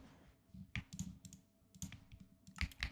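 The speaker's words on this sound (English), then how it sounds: "My keyboard is always, like, so loud." A loud computer keyboard is typed on in short, close bursts of sharp clicking keystrokes separated by brief pauses.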